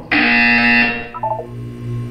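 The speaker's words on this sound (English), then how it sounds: "You will hear a buzzer." Buzzer in the Portal 2 video game: one loud, harsh electronic buzz lasting under a second, then a few softer beeps and a low hum.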